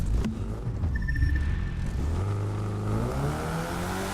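Car engine in the racing game The Crew 2 droning and rising in pitch as it accelerates, with a shift mid-way and a steady loud whir under continuous driving.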